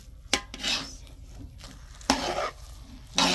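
Ube halaya mixture with coconut milk being stirred in a pan, thick scraping and rubbing strokes coming in several bursts close up, with a sharp knock of the utensil on the pan.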